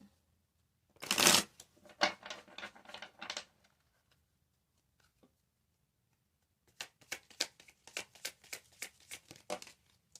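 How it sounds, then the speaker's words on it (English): Two bursts of tarot cards being shuffled, a loud riffling flurry followed by a pause and a second run of quick, crisp card slaps, close and with no voices. "Let me shuffle."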